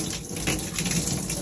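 Water sprays steadily from a shower head in a constant, loud rushing hiss.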